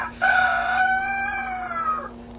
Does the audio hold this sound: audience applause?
no